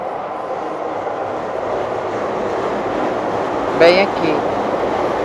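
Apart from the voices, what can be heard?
train passing, line to Shinjuku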